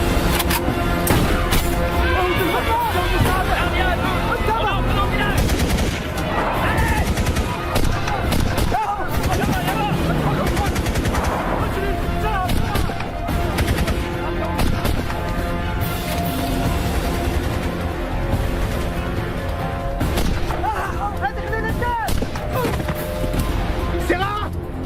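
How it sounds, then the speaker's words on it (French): Gunfire in an action film: dense, continuous rattling bursts and booms mixed with a loud score and shouted voices, with no quiet gaps. "Vas-y, tire."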